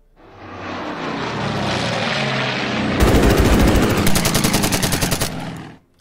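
Warplanes in the strategy game Order of Battle: Blitzkrieg swoop in on an attack, propeller engines droning steadily, then rapid machine-gun bursts rattle loudly over the roar for the final few seconds.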